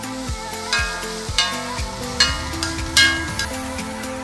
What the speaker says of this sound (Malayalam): ചെറിയ കഷ്ണങ്ങളാക്കിയ പാവയ്ക്ക നമുക്ക് ആദ്യം ആവശ്യത്തിനുള്ള ഉപ്പും മഞ്ഞളും ചേർത്ത് വെളിച്ചെണ്ണയിൽ നന്നായി വഴറ്റിയെടുക്കാം.